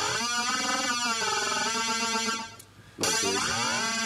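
A synthesizer's FM tone, dense and buzzing with stacked harmonics, holds steady and loud, cuts out briefly near the end, then returns as a sustained tone.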